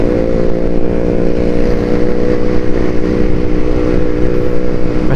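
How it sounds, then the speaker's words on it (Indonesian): A motorcycle with a loud aftermarket exhaust drones steadily nearby on a road between Sragen and Salatiga, a continuous rough engine roar with no talk over it. "nggak terlalu suka sama knalpot bising."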